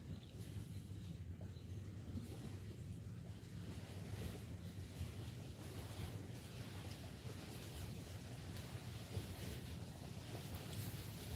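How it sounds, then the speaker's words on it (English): Waves lapping on Old Hickory Lake in Tennessee, a steady low wash of water with wind rumbling across the microphone throughout, continuous and fairly close with no talking. "Might be the waves"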